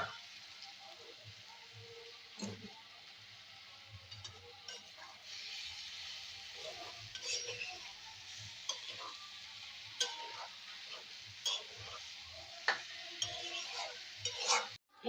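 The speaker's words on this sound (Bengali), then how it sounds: "মশলা ভাজা হয়ে গেছে, এবার আমি দিয়ে দেবো লতিগুলোকে দিয়ে দিচ্ছি।" Taro stolons sizzle in a pan with fried spices while being stirred, a steady close crackle with scraping stirs and occasional louder pops throughout.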